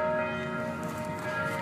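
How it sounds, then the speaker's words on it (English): Church bells ringing for a wedding, a steady sustained peal of overlapping tones that fills the short stretch at a moderate level with no talk over it. "Do you hear those wedding bells?"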